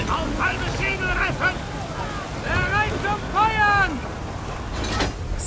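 Sailing ship in the Assassin's Creed 3 video game pushing through rough waves, with steady wind and water rush throughout while someone talks over it.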